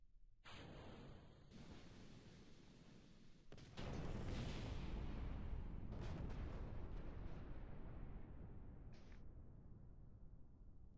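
A Vindicator siege tank fires on a vehicle building in a video game, a sustained roaring barrage of blasts and crumbling debris that swells louder partway through and stays dense to the end.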